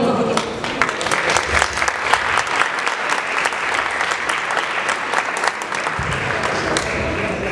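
Sustained applause from an audience at a gathering of self-managed and cooperative workers, many hands clapping steadily and loudly without a break.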